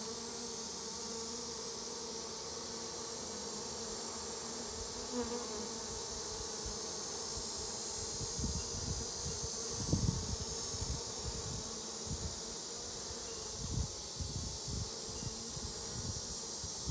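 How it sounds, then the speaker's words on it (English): A honeybee swarm fans and buzzes in a steady dense drone throughout, with low soft thumps and rustles now and then as the bees are handled. "But look how they're fanning. They're fanning like there's a queen here."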